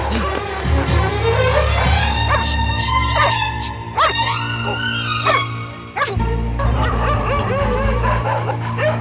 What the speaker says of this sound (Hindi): ये कुत्ता एक जगह देखकर बार बार क्यों भौंक रहा है?